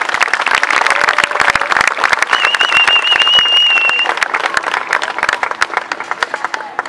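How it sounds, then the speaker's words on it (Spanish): A large outdoor crowd at a Fiestas Patrias 2016 celebration in Pasadena's Villa Parks claps and cheers steadily for a newly crowned festival queen, with dense, sustained applause and a few whistles. "Un fuerte aplauso."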